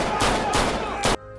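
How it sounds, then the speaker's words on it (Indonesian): Three loud, sharp prop-pistol gunshots in a film scene, spaced irregularly and close, the last one cutting off abruptly into near silence. "Danny malah menembaki semua teman-temannya"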